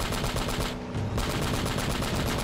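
Rapid gunfire from shooting an enemy in the video game Uncharted: Drake's Fortune rattles in a dense, continuous burst, loud and steady with a brief dip in the middle.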